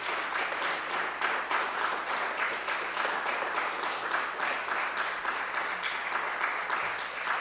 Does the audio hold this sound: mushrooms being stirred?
no